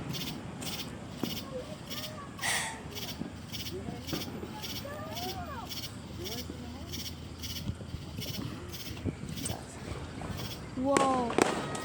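Fourth of July fireworks outdoors at night, a regular series of sharp, distant-sounding pops and crackles, with voices and excited exclamations heard over them.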